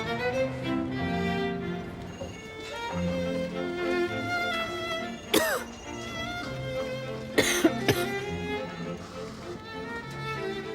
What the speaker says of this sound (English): With a cough.